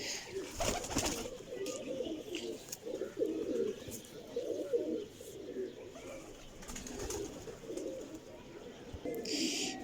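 Tabband pigeons coo in a steady, continuous murmur of low rounded calls, close by and moderately loud, with brief rustling and background noise between them.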